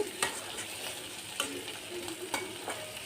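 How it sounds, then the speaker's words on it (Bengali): Chopped onion and green chilli fry in a pan with a continuous close sizzle, broken by a few sharp scraping strokes of a spatula as they are stirred. "তো এখানে আমি পেঁয়াজ আর কাঁচামরিচটা ভেজে নিচ্ছি"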